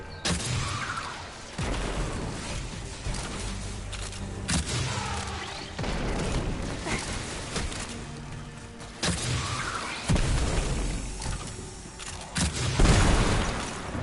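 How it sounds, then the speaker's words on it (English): Grenade explosions in the Destiny 2 video game, with several heavy booms bursting out at intervals, each followed by a rumbling tail, loud and dense against the continuous game noise. "This one also has grenades."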